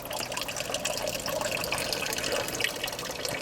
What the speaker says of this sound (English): Let's see if the bell siphon actually works.